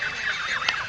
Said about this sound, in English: I don't know what the demarcation point is between goose and gosling, but they're certainly vocal.